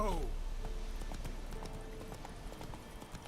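Roach, Geralt's horse in The Witcher 3 video game, gallops in a steady rhythmic clip-clop of hooves under continuous talking, opening with a short whinny-like voice and carrying on at moderate loudness.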